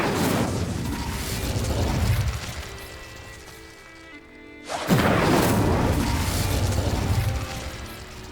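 Incendio fire spell cast in the video game Hogwarts Legacy, a loud fiery burst with crackling roar that drops away briefly before a second strong whooshing blast swells back up, with no talk.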